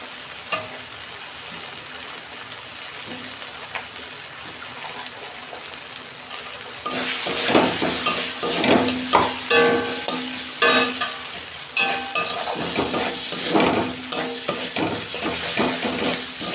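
Potatoes hit hot spiced oil for a vegetarian gram-flour dish. Quiet at first, then a loud, close sizzle of frying bursts in, broken by repeated scraping and clattering stirs.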